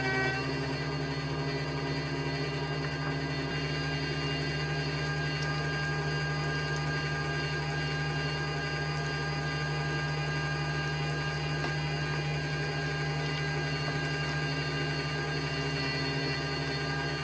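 A meat grinder pushes cold hamburger meat through a coarse grinding plate, giving off a steady, loud mechanical hum with strong tonal motor drone that stays constant and unbroken throughout, with no talking.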